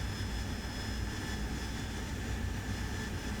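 Steady, dense roar of an AV-8B Harrier's jet engine in flight in the DCS flight simulator, a constant broadband rush with faint high whine held evenly throughout, no voices.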